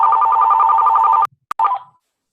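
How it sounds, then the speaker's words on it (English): A phone ringing with a loud electronic warbling ring that repeats rapidly for over a second, cuts off with a click, then gives one more short burst before stopping. "whoever's got a phone ringing"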